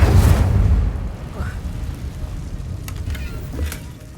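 An Incendio fire spell cast in Hogwarts Legacy erupts in a loud, low whooshing burst at the start, then a rumbling, crackling fade, with a few faint pops later.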